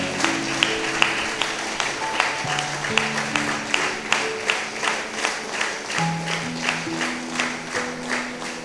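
A church congregation claps together in a steady rhythmic beat, joined by sustained musical tones, with the even pulse of hands holding throughout the gathering.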